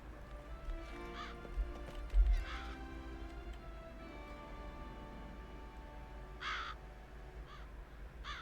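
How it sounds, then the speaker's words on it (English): Crows caw in the Witcher 3 video game on Death March difficulty. A few separate, fairly distant caws rise over a steady outdoor ambience with faint hoof clip-clop. "Crows everywhere."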